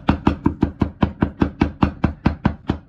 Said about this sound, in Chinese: 剁碎